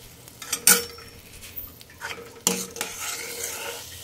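A spoon stirs gram flour and buttermilk into cooked onions in a pot, with soft scraping and a couple of sharp metallic clinks against the pot over a low background hiss.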